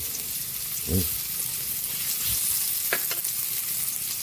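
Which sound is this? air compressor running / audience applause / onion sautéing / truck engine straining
onion sautéing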